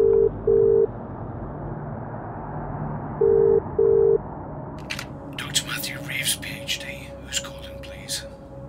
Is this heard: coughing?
no